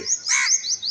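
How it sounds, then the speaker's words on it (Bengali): A single harsh crow caw rings out nearby, surrounded by thin, high bird chirps. There are no voices. "কাক ডাকছে?"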